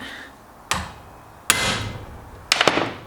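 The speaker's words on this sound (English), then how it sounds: "impact driver's a nice easy one. Let's get that screw out." An impact driver works a seized screw loose in three separate bursts, each a sharp, loud hammering attack that rings briefly and fades, with short quiet gaps between them.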